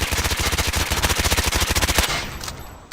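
A submachine gun fires rapidly in a first-person shooter, a loud, tightly spaced burst lasting about two seconds before cutting off into a fading tail, with no voices.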